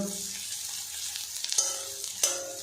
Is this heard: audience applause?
no